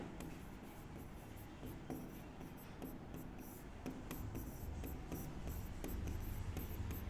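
Someone writes by hand while working through a maths problem on numbers, with continuous scratchy strokes and light taps close by, steady and quiet under a constant background hiss.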